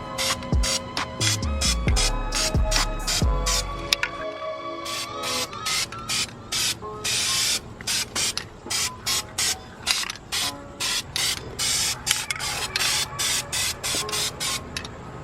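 A spray can coats a Honda Prelude exhaust manifold in silver paint in a string of short, hissing bursts at a steady pace. Faint music plays underneath, and clicking sounds are heard at the start.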